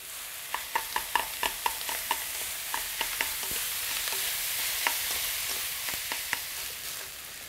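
Kimchi fried rice, day-old rice with scallions and toasted sesame oil, frying and being stirred in a pan, steady sizzle with quick spatula scrapes and taps at an irregular rhythm, close and fairly quiet.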